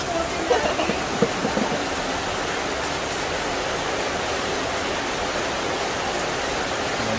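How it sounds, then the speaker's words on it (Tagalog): Heavy, unbroken rain pours down in the Philippines, a dense, steady roar that holds at an even loudness throughout with no pauses or voices. "walang humpay ang pag-ulan"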